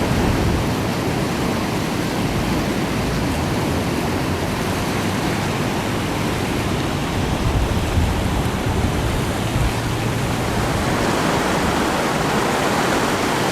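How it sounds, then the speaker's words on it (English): Floodwater from a river near Denbigh in North Wales that has burst its banks and spread over fields, rushing as a steady, broad roar close by, with no talk. "And the river now has clearly burst its banks and is beginning to engulf the fields over there."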